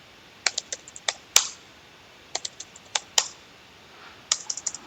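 Bursts of typing on a computer keyboard at a Linux command line, clear close keystrokes in short clusters separated by pauses, a few sharper louder key hits standing out, no talking.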